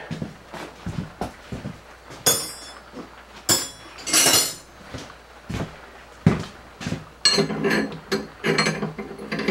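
Wrench work on a bolt of a 1953 Ford F100 truck, a run of metallic clinks, ratcheting clicks and tool knocks in irregular bursts, close by with occasional louder clanks, no talk.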